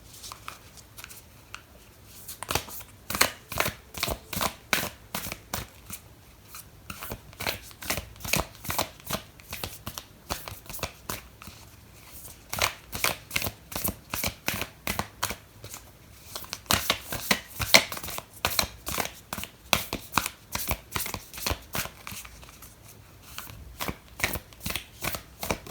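A deck of oracle cards shuffled by hand in a quiet room, a long run of rapid, close riffling flutters repeating in steady bursts.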